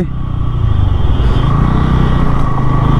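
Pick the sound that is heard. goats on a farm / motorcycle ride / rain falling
motorcycle ride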